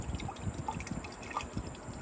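Water trickles and drips through the holes of a homemade hydroponic vertical grow tower, a soft, uneven patter of small splashes close by at fairly low level.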